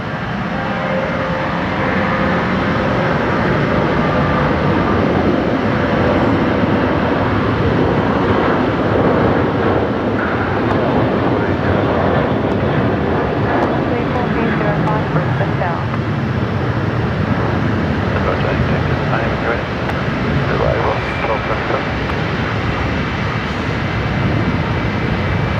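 A Velocity Boeing 737-800 departs Brisbane Airport at night for Melbourne, its jet engines giving a loud, steady broadband roar that holds without a break for the whole stretch.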